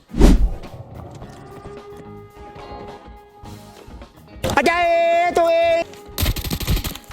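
Semi-automatic M110 sniper rifle fire in the Arena Breakout shooter game: one sharp loud shot at the start, then a brief burst of several rapid cracks with ringing echoes midway, followed by another loud noisy burst near the end.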